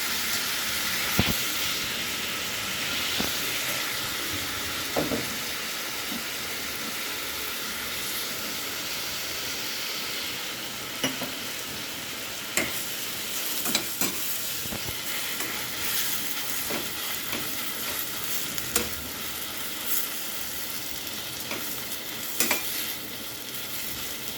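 Onion and tomato sauté in a pan for tomato rice, a steady close sizzle and hiss with occasional scraping stirs and small clinks, and no talking.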